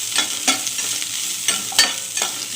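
A medium chopped onion fries in oil in a kadai for mochai kulambu, a close, even sizzle punctuated by rhythmic scrapes of a spoon stirring every half second or so.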